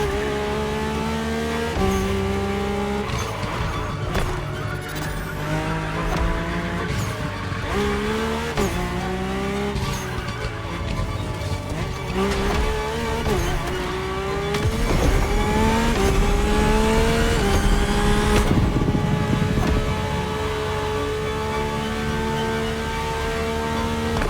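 Mercedes-AMG One engine in The Crew Motorfest, a high-pitched hybrid F1-derived powertrain revving continuously through repeated upshifts and accelerations, with occasional tire squeal, loud and close throughout.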